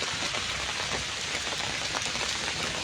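Heavy rain pours down steadily over Solan in Himachal Pradesh, a dense, continuous hiss of drops striking surfaces, loud and even throughout with no voices.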